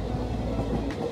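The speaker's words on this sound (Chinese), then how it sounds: "跟着火车前进，望出复古旧旧的窗外，感受最纯真的时刻。" A vintage blue sightseeing train runs along its rails, a steady low rumble of wheels and carriage filling the whole second with no voices.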